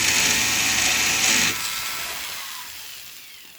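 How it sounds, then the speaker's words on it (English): A flex shaft tool with a burr cuts a divot into the edge of metal while making jewelry hinges, a close, bright grinding whine that stops abruptly about halfway through and leaves a fading motor hum. "I'm going to move it slowly along the edge until it makes a divot into the metal"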